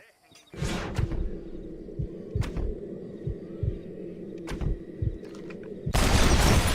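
Schofield revolver shots in Red Dead Redemption, a series of about eight sharp single gunshots spaced irregularly, close and punchy, with a louder burst of noise at the end.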